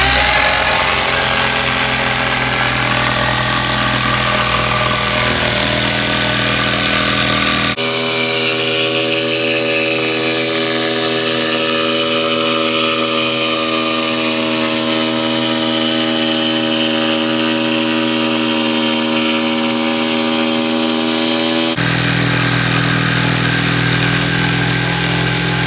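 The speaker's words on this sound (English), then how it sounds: "So we jigsaw out one half of the cut." A jigsaw cuts a kitchen worktop for a mason's mitre, a loud, steady buzzing motor whine with a harsh rasp that runs unbroken for the whole stretch, its pitch shifting midway as the blade works through the board.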